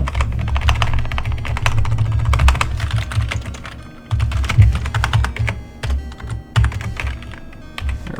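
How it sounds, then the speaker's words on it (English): Rapid typing on a computer keyboard during a speedrun of Quest for Glory II: Trial by Fire, dense close clicking and key thunks in quick bursts, with no talk. "This is really awkward typing at an angle"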